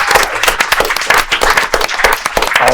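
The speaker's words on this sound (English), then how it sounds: "let's give a round of applause for Nehemiah Davis" A live audience at an entrepreneurs' event claps for Nehemiah Davis in a short, close burst of uneven hand claps.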